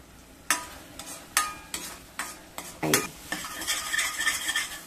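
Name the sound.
ground masala paste being sautéed in oil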